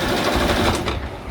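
A sewing machine runs steadily while stitching clothes in a tailoring setting, a dense continuous whir filling the short moment at close range with no talk over it.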